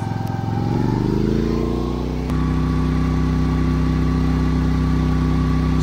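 A portable generator engine runs steadily at high idle, powering an air conditioner, with a loud, constant droning hum and a brief shift in tone early on before settling into an even drone.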